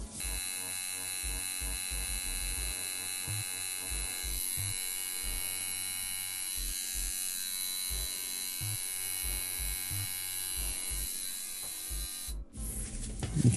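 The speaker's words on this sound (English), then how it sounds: "So this machine is just a very light hitting machine" A Wormhole shader tattoo machine, a light-hitting rotary, buzzes steadily and close throughout while tattooing, a constant electric hum with faint periodic pulses underneath.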